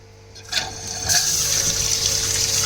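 Water starts rushing from an opened isolation valve to fill a garden pond filter tank, a steady hissing flow that builds from quiet within the first second and then holds loud and constant.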